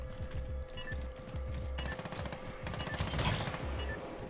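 Rapid bursts of gunfire in Call of Duty: Modern Warfare crackle over a low droning background, with a louder flurry of shots near the end.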